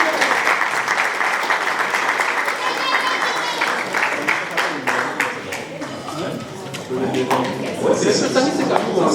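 A crowd at a customary wedding ceremony claps steadily and loudly for several seconds, with voices and cheers mixed into the applause.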